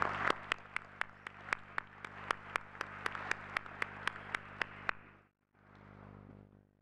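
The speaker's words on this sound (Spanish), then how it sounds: "Un aplauso para los autores." At a conference session, sharp, evenly spaced claps from what sounds like just one or two people ring out about seventeen times over a low electrical hum, then stop abruptly.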